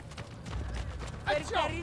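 Horse hooves clip-clopping in the video game Assassin's Creed Brotherhood, a steady close rhythm of hoofbeats with a brief vocal or neigh-like sound near the end.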